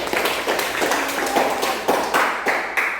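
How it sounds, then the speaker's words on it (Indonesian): A class of students claps for a classmate, a short burst of rhythmic hand clapping in a series of roughly even group beats, close and fairly loud. "Beri tepuk tangan untuk temanmu."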